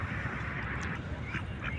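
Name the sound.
Chinese ducks at a park pond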